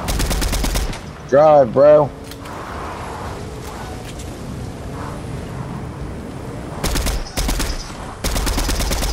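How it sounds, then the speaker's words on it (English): Rapid bursts of gunfire ring out while shooting at enemies in Fortnite, loud volleys at the start and again near the end, with a brief spoken line and quieter game noise in between. "Shooting them. I'm shooting our enemy."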